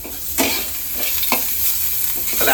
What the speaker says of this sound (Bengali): আবার করে পেঁয়াজ ভাজতে হচ্ছে